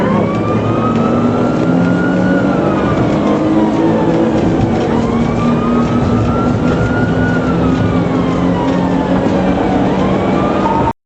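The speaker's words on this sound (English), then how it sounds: "The normally peaceful streets turned into a battlefield of sirens and roaring engines" Wailing police sirens rise and fall continuously over a loud, steady roar of car engines and traffic during a police chase, close and sustained throughout.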